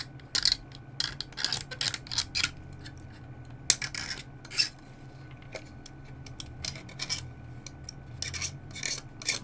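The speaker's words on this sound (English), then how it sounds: "We'll need to scrape off primer from here as well." Primer is scraped off a model Type 45 destroyer hull, giving short, dry scratchy strokes in irregular bursts, close and fairly quiet.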